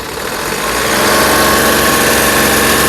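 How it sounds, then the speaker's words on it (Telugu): A 2019 Mahindra TUV300 T6+ SUV engine idles steadily up close, a smooth continuous hum with a slight rise in level early on, no voices. "ఇంజన్ యొక్క నాయిస్ చాలా అంటే చాలా సైలెంట్గా అయితే ఉందండి"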